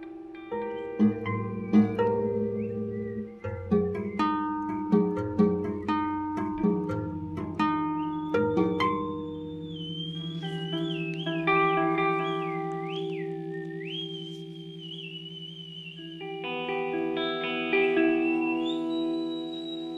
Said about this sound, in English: So I've taken this acoustic here, and I've attached little alligator clips on the 3 lowest strings